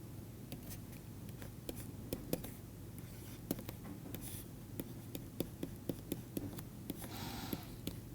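A pen or marker writes equations by hand, producing faint scratchy strokes and small taps at an irregular pace over a quiet background hum, with no talking.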